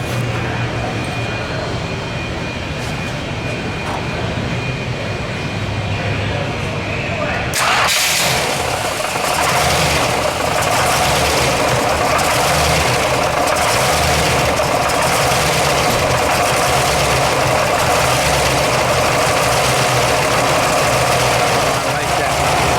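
A 1964 Dodge Polara 500 Ramcharger with a 426 Stage III Max Wedge V8 and tri-Y exhaust cranks and catches about a third of the way in, then settles into a loud, steady, lumpy idle that runs to the end.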